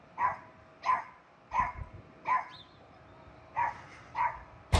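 A dog barks in a steady series of about seven sharp, evenly spaced barks at moderate volume, with a short burst of noise at the very end.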